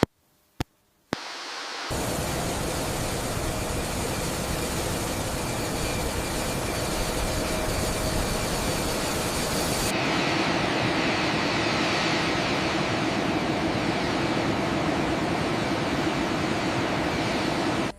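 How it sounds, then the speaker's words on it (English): A Boeing 787 Dreamliner's jet engines spool up, a loud steady broadband roar rising from near silence after a few sharp clicks and holding strong, with the whine shifting partway through. "Film the engines powering up, blades spinning, as the Boeing 787 Dreamliner prepares for takeoff."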